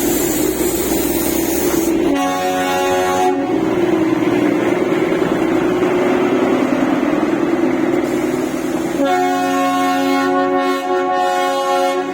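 The Darjeeling toy train at Darjeeling station sounds two loud horn blasts, one short and one longer, over a steady rumbling engine and station bustle throughout.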